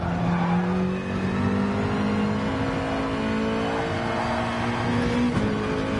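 Nissan race car in GT Sport at Monza, engine droning steadily near and loud with gear-change pitch shifts as it brakes and accelerates through a corner, with no one speaking.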